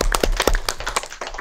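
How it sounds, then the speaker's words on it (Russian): Brief, scattered clapping from a small audience at an online conference on handicrafts, a few distinct hand claps over about a second and a half. "Наши аплодисменты."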